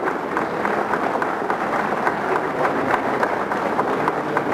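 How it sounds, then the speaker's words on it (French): A crowd claps steadily and densely throughout at the National Assembly, an even wash of applause with no pauses. "Applaudissons."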